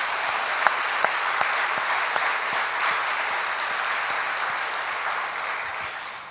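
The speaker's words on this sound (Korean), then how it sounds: "다시 한번 박수해 봅시다." A church congregation gathered for a revival service applauds in a sustained, even round of clapping with a few sharper individual claps standing out, filling the room throughout.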